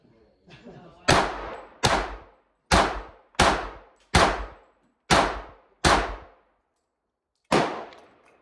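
A Tisas 1911 pistol fires eight loud, close shots during a magazine test, each a sharp crack with a ringing tail, spaced roughly a second apart, with a longer pause before the last shot.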